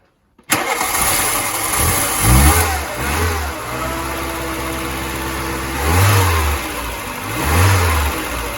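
A carburetted 1980s VW Polo Mk2 engine cranks and catches, then runs steadily close by with a rough, lumpy idle and a couple of brief revs.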